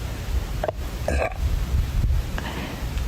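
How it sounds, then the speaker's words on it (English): A short burp-like belch rises out of steady low outdoor rumble during a late-night sky-watching session, with a couple of faint smaller bursts around it. "Is that a burp?"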